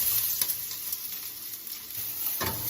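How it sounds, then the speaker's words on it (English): Ginger root, garlic and chili pepper sizzle steadily in a hot pan over a constant frying hiss, with a few brief scraping stirs rising above it. "You just want to fry this until the ginger roots is browned."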